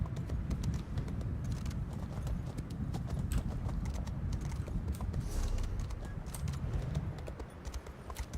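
Steady clip-clop of horse hooves in the video game Elder Scrolls Online, a continuous trotting rhythm at moderate volume with no talking.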